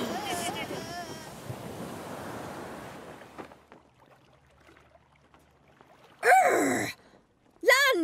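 Cartoon ocean waves roll and wash in a broad, rushing surge for about three seconds beside a pirate ship, then fade to near quiet before two short bursts of shouted voices.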